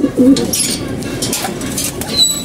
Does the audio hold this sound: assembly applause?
no